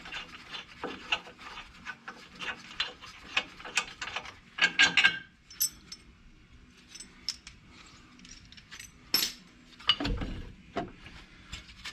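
A ratchet works loose the strut bolts on a 2004 Mustang GT during a Koni strut install, with uneven bursts of clicking and metallic rubbing, close and moderately loud, and pauses between strokes.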